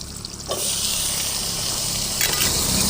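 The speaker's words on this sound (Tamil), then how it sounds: "வெங்காயம் நல்லா வணங்க வேணும்" Onions sizzle loudly and steadily in a hot pan, a dense crackling hiss that swells briefly near the end.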